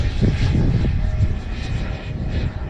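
A Freewing L-39 Albatros 80mm electric ducted-fan RC jet flies in wind, its steady whooshing drone loud and close throughout, rising and falling slightly as it passes, with no talking.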